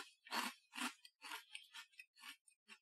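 Crisp rice-based snack pieces resembling hard, crispy fries are bitten and chewed up close, giving a series of about eight sharp crunches that start strong and grow smaller and quieter, quiet and isolated without talk.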